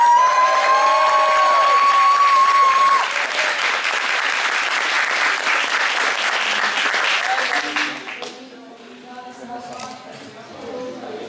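Cosplay contest audience in a Dijon amphitheater applauding Sword Art Online cosplayers, loud sustained clapping with some cheering and a short musical tone at the start, thinning out after about eight seconds into quieter scattered sounds.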